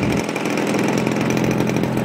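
A DLE40cc twin-cylinder boxer engine on an Extra 300 model plane, fitted with a stock barrel muffler and an added silencer, roars steadily at high revs, a loud continuous buzzing drone throughout.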